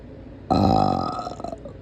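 A single loud, voiced burp erupts after a brief quiet start, holding a strong rasping tone for about a second before trailing off in a few sputtering pulses, with no talk.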